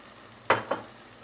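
Spinach and rice sauté in a pan, two quick scraping stirs over a faint, quiet sizzle.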